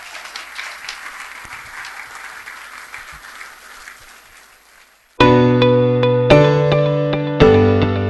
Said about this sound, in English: everybody, clap for this woman.